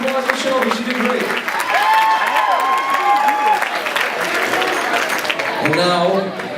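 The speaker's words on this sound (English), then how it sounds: "One round of applause for Shelby." Audience applause at a school variety show fills the room with steady clapping and some cheering, while voices talk over it.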